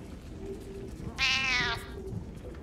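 A cat meows once inside the video game Baldur's Gate 3, a single clear, fairly loud mid-length call rising out of a low steady background hum.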